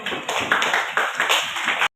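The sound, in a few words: class applauding group 1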